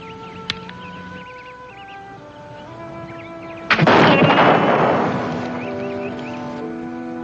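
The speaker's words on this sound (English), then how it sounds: "That's fine shooting, Red Sky." A muzzle-loading rifle fires with a loud, close boom that rolls into a long, decaying rumble, in an outdoor frontier setting. Sustained tonal music plays throughout, with a sharp click or pop before the shot.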